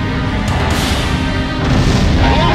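A massive, continuous roaring explosion as an enemy cruiser is destroyed in the flight combat game Ace Combat 04, dense and loud with low rumbling bursts swelling toward the end.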